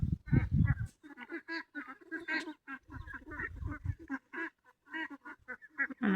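Farm ducks, part of a flock of about five hundred raised from ten-day-old ducklings, quack in repeated close bursts, with low-pitched calls at the start and in the middle.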